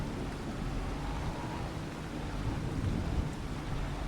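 Steady rain with a low thunder rumble in the farming game Farming Simulator 25, a continuous broadband wash of rainfall with no speech over it.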